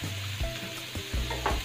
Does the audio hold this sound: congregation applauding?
no